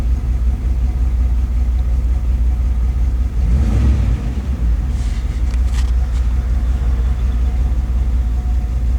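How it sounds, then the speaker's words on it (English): A Chevy 350 V8 suffering low oil pressure idles with a loud, steady rumble, then gives one brief rev that swells and quickly falls back to idle. "Give it the old little rev action here"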